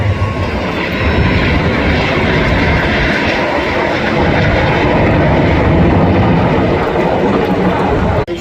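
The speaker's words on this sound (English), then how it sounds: "Each aircraft now pulling hard away from each other, pulling up to 60" Jets of an aerobatic display team flying manoeuvres at the Blackpool airshow roar loudly and continuously overhead, a powerful rushing engine noise that swells and holds before cutting off at the end.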